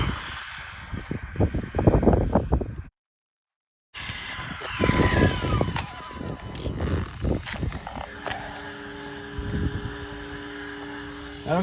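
A Jiusi PT14R RC car makes a full-throttle speed run with a high electric motor whine that rises and fades as it passes, mixed with outdoor wind noise and a short dropout.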